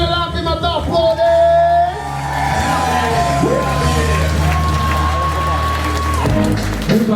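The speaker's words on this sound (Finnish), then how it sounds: "Antakaa Kristerille lämpimät aplodit!" Crowd at a Tampere freestyle rap open mic yelling, whooping and applauding for rapper Krister, loud and close, with sustained shouts and a prominent held tone over the cheering.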